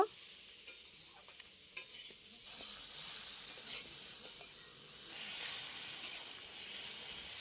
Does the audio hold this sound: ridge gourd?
yes